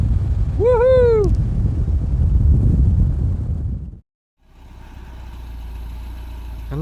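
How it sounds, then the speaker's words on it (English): A vehicle driving along a sandy beach in northern New Zealand, a steady engine drone with heavy wind rumble across the microphone, a brief cut-out, then a steadier engine hum; a high whistling chirp sounds near the start. "I'm driving along a beach."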